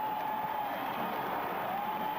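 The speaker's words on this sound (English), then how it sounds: "the applause you hear are for the Bobcat seniors, Greg Walters and Tony Hampton, checking out of tonight's ball game" Basketball crowd applauding in an arena as senior players leave the game, a distant, steady wash of clapping and faint cheering with a broadcast hum underneath.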